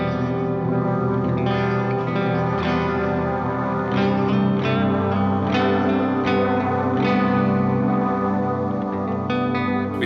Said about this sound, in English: So if we put the wash on in front of that delay,